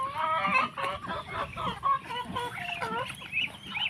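Chickens on a tropical farm cluck and squawk continuously at close range, several birds calling over one another in uneven bursts.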